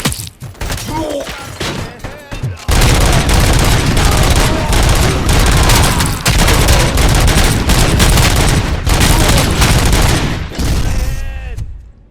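Dense, loud bursts of gunfire in the video game RoboCop: Rogue City, with sporadic shots at first, then a sustained heavy barrage of rapid automatic fire and thuds lasting many seconds.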